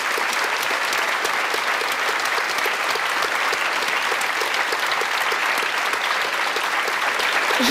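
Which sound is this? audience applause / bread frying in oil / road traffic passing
audience applause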